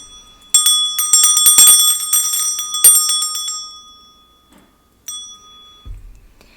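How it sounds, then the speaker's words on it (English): A small bell rings repeatedly in quick bright strikes, then a final single ding rings out and fades, with a soft thump at the end. "I'm going to start with my bell to clear the energy."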